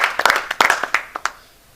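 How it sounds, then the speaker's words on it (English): An audience claps briefly for a speaker at a university humanities and social sciences event, a short scattered burst of hand claps that thins out and fades within two seconds. "Can we clap for this person?"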